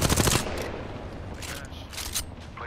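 A short loud burst of automatic gunfire in Apex Legends, then fainter scattered shots trailing off into a rumbling background.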